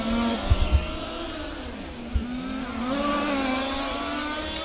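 A radio-controlled touring race car at a European championship qualifying heat, a steady, high-pitched electric whine with shifting pitch as it passes, plus a few sharp knocks early on and continuous track noise.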